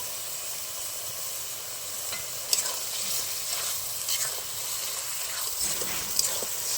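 Ground tomato and chili paste frying in a pan while making egg biryani, giving a steady close hiss and sizzle with a few scraping stir clicks and no talk.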